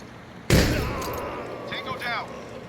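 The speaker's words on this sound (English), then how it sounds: "Jesus, this is a gunfight" One sharp, close gunshot bursts out and rings briefly in the Door Kickers 2 tactical shooter, followed by a fainter whistling trail, with game sounds going on underneath.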